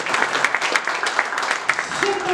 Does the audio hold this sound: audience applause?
yes